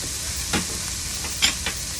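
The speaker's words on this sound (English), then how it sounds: "already what's on the bottom is starting to cook." Sweet and sour pork fries in a pan over an outdoor cooking setup, giving a steady low sizzle with a few soft stirring scrapes and brief clinks.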